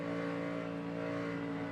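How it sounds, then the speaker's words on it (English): NASCAR Cup stock car engine droning steadily with strong tonal harmonics as the throttle is worked, heard at a distance and fairly faint, with no voices. "You could hear him starting to really pedal the throttle."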